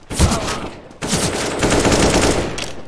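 Loud video game gunfire comes in two dense bursts of rapid automatic shots with a short gap between them, close and harsh.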